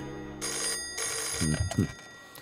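A telephone rings with bright, steady electronic tones in two bursts, followed by a short voice-like sound near the end.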